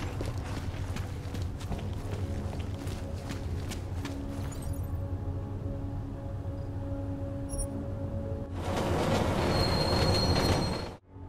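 A train in the video game Deus Ex: Mankind Divided rolls along with a steady rumble, clicking wheels and faint squeals. Near the end a louder hissing rush swells and then cuts off, with no voices.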